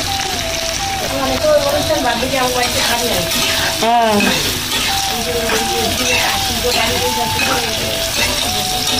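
Tomato, onion and chili frying together in a pan, a loud, close, continuous sizzle with stirring scrapes, someone talking over it throughout and a brief clatter midway.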